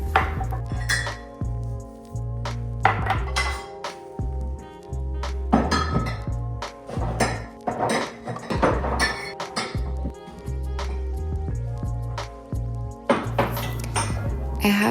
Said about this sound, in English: I'm starting by unloading the dishwasher.